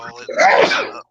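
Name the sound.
sneeze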